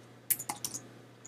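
A few quick keystrokes on a Mac computer keyboard, crisp close clicks in a short uneven burst over a faint background hum.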